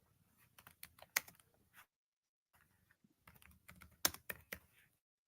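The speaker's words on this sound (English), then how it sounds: "I hear you typing now, so I guess you're gonna type in your score here" Clicky typing on a computer keyboard, two quick bursts of keystrokes separated by a brief pause, close and fairly quiet.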